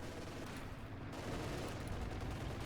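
Tank cannon fire in Company of Heroes 2, a KV-2's shells glancing off a Panther's armor, heard as a dense, continuous barrage of battle noise with gunfire and rumbling blasts throughout, loud and steady with no clear single impact standing out.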